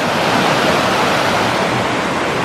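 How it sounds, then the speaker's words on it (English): A river rushes down beside an old mill, a loud, steady broadband roar of flowing water that fills the scene without pause or speech. "There's the river coming down the side of the mill."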